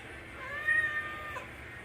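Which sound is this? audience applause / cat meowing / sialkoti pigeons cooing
cat meowing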